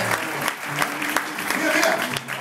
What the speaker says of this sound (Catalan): un aplaudiment sisplau per la gent